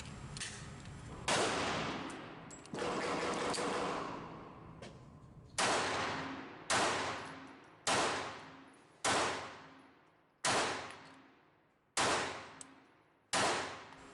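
Glock 42 .380 semi-automatic pistol fired at 3-inch bullseye targets 30 feet away: about nine loud, sharp shots spaced roughly a second apart, each with a ringing decay, and no talking.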